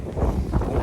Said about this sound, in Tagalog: Malas yung hangin.